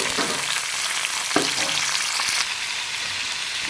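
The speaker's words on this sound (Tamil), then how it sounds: "அதுக்கு ஒரு வாணலியை வச்சு கொஞ்சமாக ஆயில் சேர்த்துருக்கேன். இப்போ அதில் இந்த சின்ன வெங்காயத்தை நம்ம ஆட் பண்ணிடலாம்." Small onions (shallots) fry in a little oil in a kadai, giving a continuous, close sizzle with a few light stirring knocks. No voices are heard.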